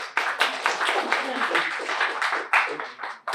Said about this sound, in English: A warm applause to her